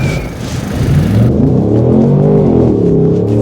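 A Ford Mustang, either a Mach 1 or a Dark Horse, accelerates hard on the Zwartkops race track. Its loud V8 roar climbs steadily in pitch through the gears, heard close up with no talking.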